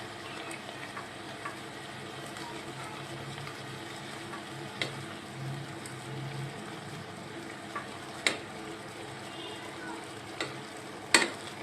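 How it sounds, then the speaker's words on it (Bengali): A spice mix with coriander powder and chili powder sautés in a pan, giving a low, steady sizzle throughout, broken by a few light clicks and taps of a spoon against the pan. "এবার মশলাটা আমি ভালো করে কষাবো।"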